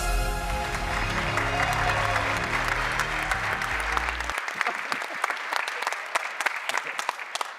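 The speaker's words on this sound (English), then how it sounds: "your hands together for Jillian Vose" Conference audience applauding as speaker Jillian Vose is introduced, a dense burst of clapping over music that cuts off midway, after which the clapping thins into scattered individual claps.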